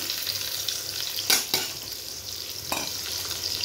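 Steady sizzling of onions frying in hot oil, close and continuous, with a couple of sharp scraping stirs breaking through.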